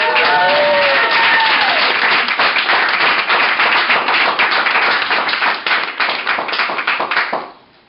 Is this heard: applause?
yes